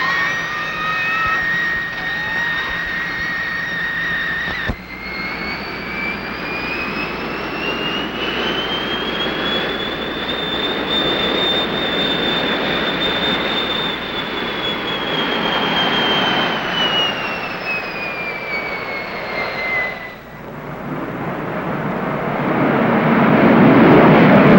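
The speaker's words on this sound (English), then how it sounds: "And then we're going to fly by with the afterburner on." A U.S. Navy jet aircraft flying by with afterburner lit, a loud roaring, whining engine sound that rises and falls in pitch as it passes and swells louder again at the end.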